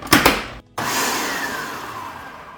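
A food processor pulses flour, sugar and salt for pie crust: two quick loud bursts, a brief gap, then a longer steady whirring run that slowly eases off, with no talking.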